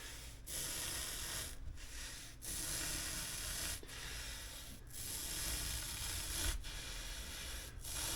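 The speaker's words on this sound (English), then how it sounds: "So I'm going to sharpen my knife and we're going to cut this foam." A knife is sharpened before cutting foam for boat cushions, steady rasping strokes with short breaks between passes, close and even.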